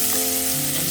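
Onions frying in hot oil with spices for a chicken curry, a loud, close, continuous sizzle with a bright crackling hiss throughout.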